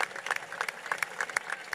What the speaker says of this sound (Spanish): Eso se merece un fuerte aplauso.